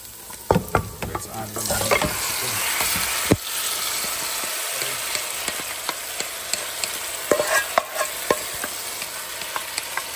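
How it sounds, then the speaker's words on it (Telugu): Marinated chicken and fried onions frying on a low flame, a steady sizzle broken by repeated stirring scrapes and clinks of a spoon against the pan, close up with no talking. "ఇందులో మనం మ్యారినేట్ చేసుకున్న చికెన్ వేసేసి లో ఫ్లేమ్లో చికెన్ అలా ఉంచాలి"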